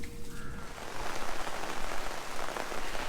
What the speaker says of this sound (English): And as totally expected, the rain has come.